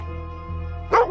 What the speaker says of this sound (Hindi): जाकर देखो कुत्ते भौंक क्यों रहे इतना